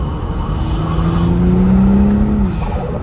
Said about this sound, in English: Get a little acceleration for you guys.